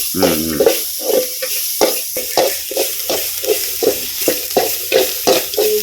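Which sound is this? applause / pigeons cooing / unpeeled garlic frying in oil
unpeeled garlic frying in oil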